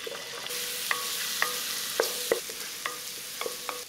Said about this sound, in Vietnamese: Cho vào nồi 2 muỗng canh dầu và mình cho 1 muỗng canh hành tỏi băm vào phi lên cho thơm